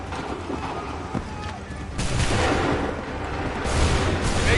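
A massed musket volley in Assassin's Creed III erupts on command as a broad roar of shots that swells and lingers over battlefield noise, with shouted orders around it.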